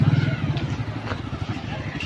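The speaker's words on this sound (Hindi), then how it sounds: "सीढ़ी पर से बाइक उतार रहा है" A motorcycle brought down a flight of stairs at a Shiv temple fair, with a low engine rumble and knocking under nearby talk and crowd noise.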